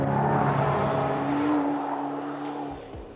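An Aston Martin Valhalla supercar on a race circuit holds a loud, steady high engine note that eases off toward the end, close and alone, with no talking.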